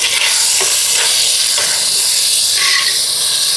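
Onions and tomatoes sizzle in hot oil with mustard seeds, a loud close hiss that runs without a break and has a few sharper spits, with no voices.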